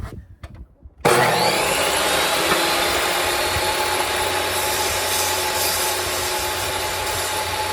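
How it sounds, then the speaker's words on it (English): Table saw blade biting into wood while building a cigar box guitar, a few faint clicks then a sudden loud sustained whine and rasp of cutting that holds steady to the end. "So the top of the saw blade is at the height of my 1/4 inch right there."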